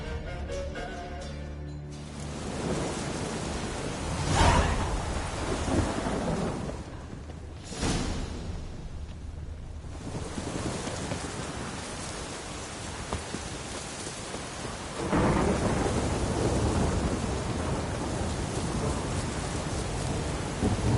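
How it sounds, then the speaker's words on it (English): Heavy rain pours steadily during a thunderstorm in The Witcher 3, with loud thunder cracks near the start and around the middle, and a rumbling swell later, with no voices. "Storm, damn it."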